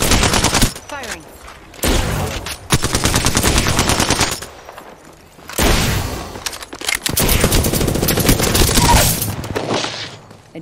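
Gunfire in the video game Apex Legends, loud rapid automatic bursts rattling for a second or two at a time, broken by short gaps.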